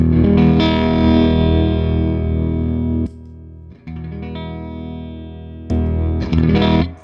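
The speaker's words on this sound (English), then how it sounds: "It's a ridiculous amount of gain," An electric guitar plays through a VVco Dark Knight distortion pedal with the gain turned all the way up: thick, saturated sustained chords ring out loud and close, cut off, then swell again with a hard attack.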